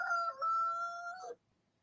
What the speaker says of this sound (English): It is a loud rooster.